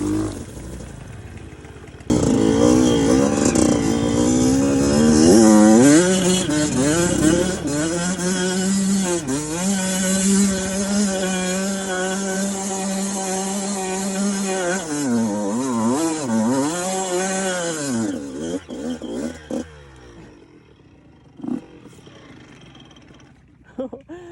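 A motorcycle engine revs hard and steadily while the bike sits stuck in snow. The note rises and falls with the throttle for about fifteen seconds, then dies away into quiet broken by a few short knocks.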